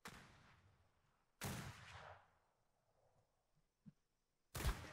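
Gunshots aimed at a drake in the game Atlas: three loud blasts with long fading tails, spaced over a few seconds, and a small thud between them against quiet background.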